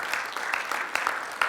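A church congregation applauds in thanks during a worship service, a steady wash of clapping with a few sharper claps standing out, close and moderately loud.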